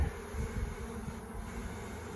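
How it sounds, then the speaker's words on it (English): Worker honey bees drone inside a hive during an inspection, a steady low buzz that holds close and continuous throughout with no voices. "There's worker bees in there"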